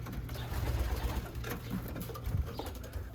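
Pigeons, a blue bar hen and a red check cock, coo softly and low in a breeder's loft. Faint fluttering and rustling sit under a steady background hiss, and no one speaks.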